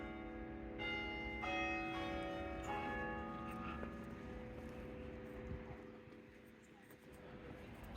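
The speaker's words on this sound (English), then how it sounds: "Sudden bells must have been welcoming me." Church bells ring out over a waterfront walk, their overlapping tolls sounding at a moderate distance. The peals fade over several seconds against faint outdoor background noise.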